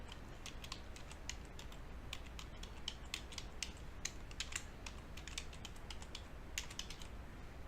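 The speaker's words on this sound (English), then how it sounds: "so I'm going to type that in." Steady clicking of a computer keyboard as an email address is typed at a login prompt, light rapid keystrokes in uneven bursts, close and fairly quiet, with no talking.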